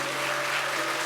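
A church congregation at a Korean Sunday service applauds to welcome four new ministers. A short, steady wash of clapping holds over a faint low hum.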